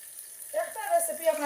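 Onions hit hot oil in a pan for Sylheti kochu shak, a quiet room tone giving way midway to a soft, steady sizzle with a few crackling bursts.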